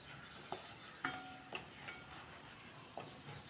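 Masala spices roasting in oil with salt over a medium gas flame for chole masala: a faint, soft sizzle broken by a few sharp spatula clicks and scrapes against the pan.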